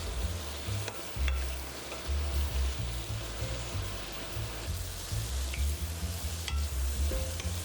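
Shrimp are tossed and fried in a hot wok, with a dense, continuous sizzle and occasional metallic scrapes and clatters of stirring, loud and close, with no talking.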